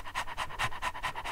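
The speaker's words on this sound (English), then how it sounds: "Doggy, I got a bone for you." A dog in the block-building game Minecraft pants in quick, even breaths, about eight rhythmic puffs close and clear with nothing else over them.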